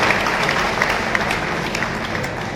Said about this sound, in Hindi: एक बार जोरदार तालियों के साथ स्वागत करके हम अपने बड़े भाई सुभाष अग्रवाल जी को बुलाएं